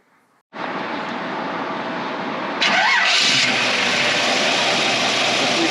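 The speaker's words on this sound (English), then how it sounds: "Fires right up, nice and smooth, no funny noises" A 350 V8 in a 1933 Ford Victoria street rod cranks briefly and fires up, settling into a steady, smooth idle that stays loud and close.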